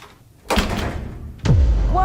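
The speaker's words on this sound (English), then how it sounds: "the footsteps of Jamie running to the door and like slamming the door shut" Door being slammed shut in a fast-paced edit: two heavy, close thuds about a second apart, the second harder and followed by a lingering low rumble, with no speech over them.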